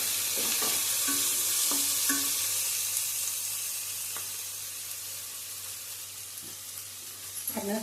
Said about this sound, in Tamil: தக்காளி பொடி பொடியாக கட் பண்ண தக்காளி சேர்த்தாச்சு இது நல்லா கொஞ்சம் வதக்கலாம்